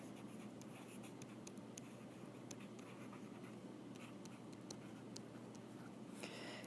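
Marker or chalk writes on a board during a math lesson on perpendicular lines: faint, scattered short strokes and taps over a steady background hum.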